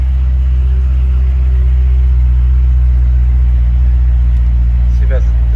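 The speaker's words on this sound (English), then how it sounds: "Fuse out for the muffler so it sounds a lot better." A 2008 Chevrolet Corvette C6 Z06 with its muffler fuse pulled idles with a deep, steady low rumble, loud and close, under occasional faint background noise.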